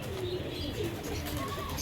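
Pigeons coo softly in a loft, a few low, rounded calls over steady background noise, with no clear speech.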